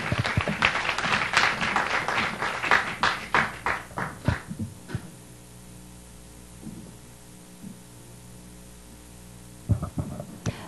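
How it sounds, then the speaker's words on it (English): Conference audience applauds at a Taiwan–US sustainability forum on international port sustainability and shipping. A dense burst of clapping lasts about five seconds and thins out, leaving a steady electrical hum, then a short flurry of claps returns near the end. "Please, a round of applause."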